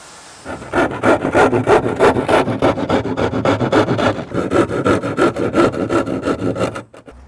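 A hollow core door is cut with a saw to make a cutout for a portable table saw, a loud, close, rhythmic rasping of quick back-and-forth strokes that runs steadily for several seconds, then stops.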